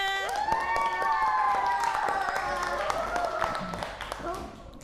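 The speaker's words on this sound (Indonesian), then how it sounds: "Tepuk tangan dong untuk semuanya." Schoolchildren in a classroom clap together, a loose scatter of hand claps under a loud high-pitched cheer or whoop, with excited young voices throughout.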